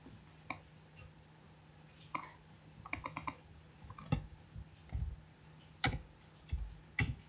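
A computer mouse clicking on a website's sign-in button: a series of sharp, separate clicks, some single and some in quick pairs, close and fairly quiet over a faint steady hum.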